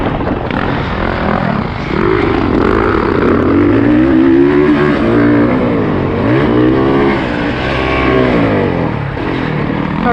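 A 2021 Honda CRF450R motorcycle engine revs loudly on a dirt track, its pitch rising and falling in continuous sweeps as the rider works the throttle, close and dominant throughout.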